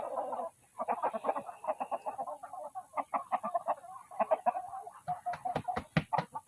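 Several chickens and a rooster clucking in a steady stream of short calls on a farm where chicks are raised, with a few sharper, louder squawks toward the end.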